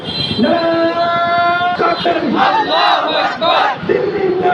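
A protest crowd at a rally in Tanore, Rajshahi chants slogans loudly and in unison, repeated rhythmic shouted phrases close and energetic, with a lead voice calling and the crowd answering.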